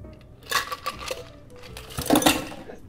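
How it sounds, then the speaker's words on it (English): Cocktail being double strained over a large block of ice for a penicillin, with clinking metal and glass, a few sharp chinks and rattles, close and fairly loud, no voices. "Going to double strain that."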